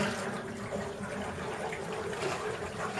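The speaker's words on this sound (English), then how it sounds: "let me open the valve now." Water flows steadily from an opened valve in an off-grid water line feeding a goldfish pond, a soft, continuous rushing that stays fairly quiet throughout.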